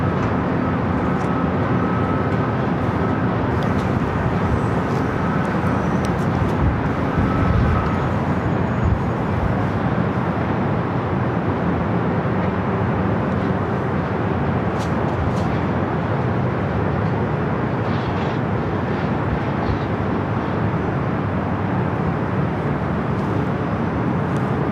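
Airliners taxi at LAX airport, heard as a steady, broadband jet engine roar with a distant, continuous rumble and no breaks over its whole length.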